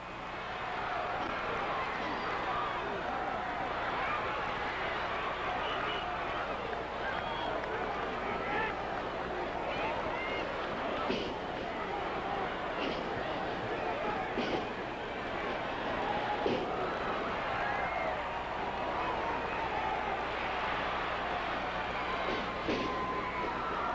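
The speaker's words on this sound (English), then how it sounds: "Crowd loving it." A wrestling crowd at a Memphis Wrestling show in Louisville keeps up a steady roar and hubbub for the whole stretch, with occasional slams and thuds from the ring, and a commentator talking over it.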